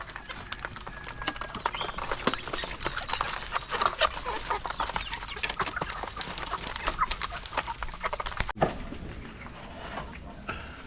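Backyard pet chickens cluck and murmur while being fed, a continuous busy flock sound with scattered pecking and pattering noises, fairly close and steady throughout.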